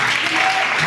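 Church congregation at a Sunday celebration service applauding and cheering, a dense burst of clapping mixed with shouting voices, loud and close for a brief moment.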